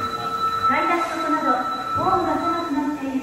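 A brown-line train runs on rails during a trip to Namba and Dotonbori, a steady rolling rumble with high metallic wheel squeals that rise and fall twice, heard from onboard.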